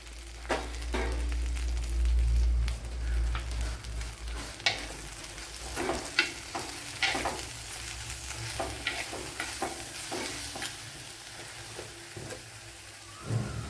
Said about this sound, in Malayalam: ഓയിൽ ചൂടായിട്ടുണ്ട് അതിലേക്ക് തട്ടി കൊടുക്കാം